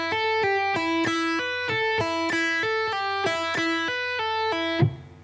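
An electric guitar picks a steady, evenly spaced riff, each note ringing clearly and loudly at a constant level, with a final scraping accent at the end and no talking.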